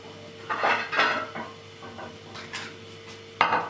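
A cloth and lid are placed over a pot of Mecca chicken biryani, giving a few close metallic clanks and clatters spread across a few seconds, with a sharper knock near the end and no talking.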